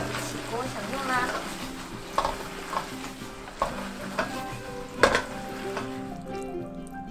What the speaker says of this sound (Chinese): 最后倒入调制好的太白粉水拌炒，再放入九层塔，等九层塔炒软后就可以起锅享用啦